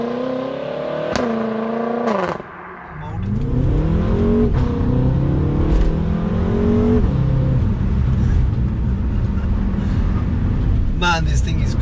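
A wrench-tuned BMW F10 M5 engine revs and accelerates hard in manual mode, rising through the gears with sharp shift breaks and a deepening roar, heard loud from inside the cabin.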